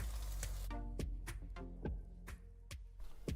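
Fish balls and sausage sautéing in a pan, a soft, steady sizzle broken by regular clicking and tapping, like a utensil knocking the pan, fairly quiet throughout.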